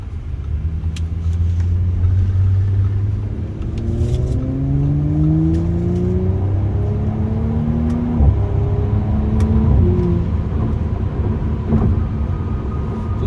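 A 2019 Audi S5 Sportback is driven on the road, heard from inside the cabin. Its engine drones loudly and steadily, with tones rising and falling through gear changes over constant road and tire rumble.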